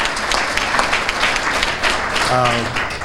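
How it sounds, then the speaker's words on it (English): An audience at a community awards ceremony breaks into applause, continuous mid-level clapping with voices mixed in and a brief tonal sound near the end. "give yourselves a round of applause"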